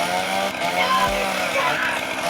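A loud, buzzing chainsaw engine in the game Kick the Buddy drones continuously at close range, rough and gritty throughout, with a brief low thump partway through.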